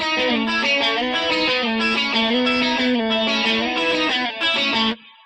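A clean electric guitar with a little chorus plays a melodic intro lick, shimmering sustained notes and smooth bends in a continuous phrase that stops near the end, loud and alone.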